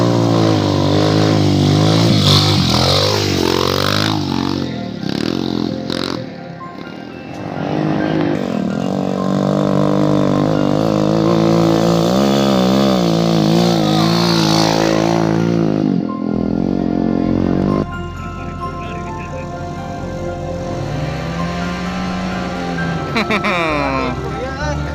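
A motorcycle engine drones and revs throughout a ride, its pitch rising and falling as it accelerates and shifts. People talk over it the whole time, and a change in engine tone comes partway through.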